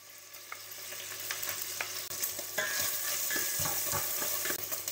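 Garlic sizzles and fries steadily in bacon fat in a pan, with occasional stirring clicks over a constant hiss.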